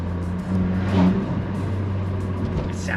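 A modded VW MK7 GTI heard from outside gives a short swell of exhaust burble and rumble, close and moderately loud, then settles into a steady low drone.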